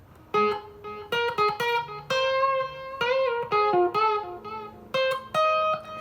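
Guitar notes running up and down a minor pentatonic scale, giving a bluesy feel, played alone as a clear, close melodic line of distinct plucked notes with harmonic overtones.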